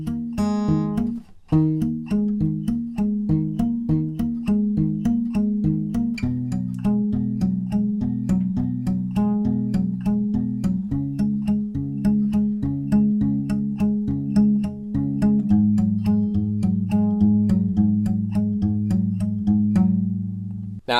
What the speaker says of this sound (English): the main riff sounds like this